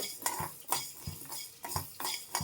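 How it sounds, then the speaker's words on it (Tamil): Coriander seeds being dry-roasted in a heated kadai, stirred with a spoon: rhythmic scraping strokes roughly every half second, close and fairly quiet, each with a light rattle of seeds against the metal. "வடைச்சட்டி காந்திட்டுருக்கு. எடுத்து வச்சா மல்லி வறுத்துக்கலாம்."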